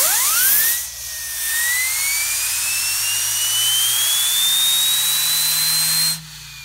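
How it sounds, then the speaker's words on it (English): Small model turbine engine driven by compressed air from a hose whines up to speed, a thin high pitch rising steadily over a hissing rush of air, close and continuous before cutting off near the end. "all you do is you hold your air hose here, and you can get some good RPMs up"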